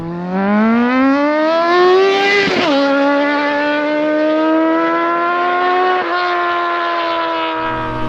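A Triumph TT600 motorcycle engine on a restored bike rises loudly in pitch while riding, with two abrupt dips where the revs break before climbing and holding a strong, steady drone.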